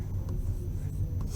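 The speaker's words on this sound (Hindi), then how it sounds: "यहाँ पे लिख देती हूँ" Brief scratchy strokes of writing on a board during an economics class, close and short, over a low steady room hum.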